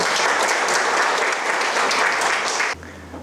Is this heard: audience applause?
yes